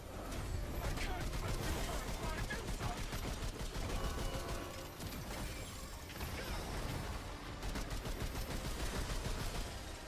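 Gunfire in the video game Remnant 2 during a boss fight, with dense rapid shots and mechanical clatter continuing throughout, loud and busy.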